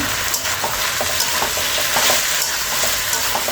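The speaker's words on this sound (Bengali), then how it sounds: "মশলার সঙ্গে ভালো করে আমি কাঁঠালগুলো কষে নিয়েছি" Raw jackfruit fries with spices and slit green chillies in a pan and is stirred steadily. A dense, loud sizzle runs throughout, with a spoon scraping now and then. No voices.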